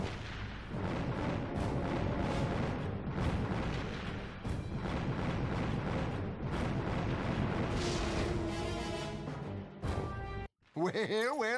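Rockets explode in Ratchet & Clank in a rolling series of loud booms and bursts over game music and effects, ending abruptly in a short whooshing tail.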